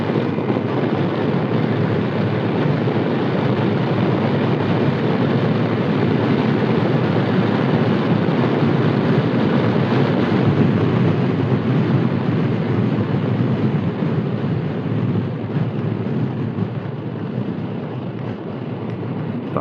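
A Yamaha X-Max 300 scooter accelerates on a coastal bay road, giving a steady, loud roar of engine and rushing wind that holds almost unchanged for the whole stretch.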